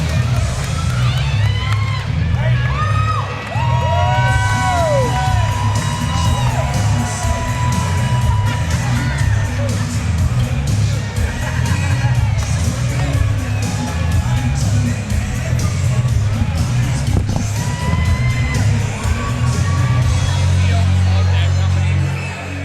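A loud crowd cheers, whoops and shouts continuously after a knee-bar submission win at a fight event, with dense babble and excited voices sustained throughout.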